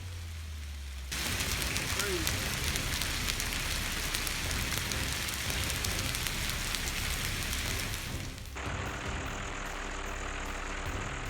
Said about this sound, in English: Central Indiana shook as a hailstorm arrived, the sound of ice impacts echoing everywhere